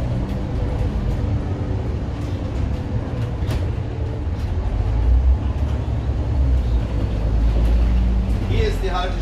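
A double-decker bus on route R 13 in Bergkamen drives steadily, its low engine rumble and road noise continuous throughout, loud and close from inside, with someone talking over it.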